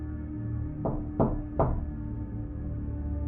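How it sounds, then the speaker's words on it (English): Three loud knocks on a front door, spaced unevenly in quick succession, sharp and close over a steady low background hum. "The loud knocking at my front door made me jump and sent chills through my body."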